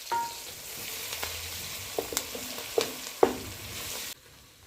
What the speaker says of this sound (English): I'll put it all to fry. And my black pepper and my turmeric powder. I will let it all fry together.